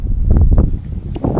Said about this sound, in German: kannst du wahrscheinlich hören, es ist sehr windig heute